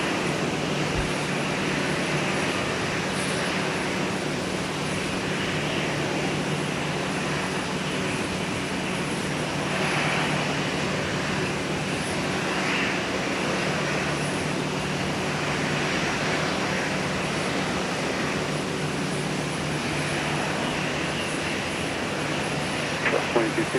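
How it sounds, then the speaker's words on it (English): Boeing 737-800 jet departing on the north-south runway, heard as a steady broadband engine roar from a distance with a faint high whine and constant background noise throughout. "737-800 departing on the north-south runway"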